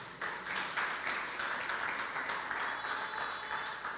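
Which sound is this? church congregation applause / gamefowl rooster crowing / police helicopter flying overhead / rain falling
church congregation applause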